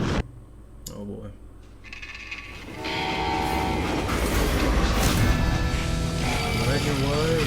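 A steam-era train from the video game Call of Juarez rumbles in, a whistle and mechanical clatter rising into a loud, continuous roar of rolling wagons and rail noise.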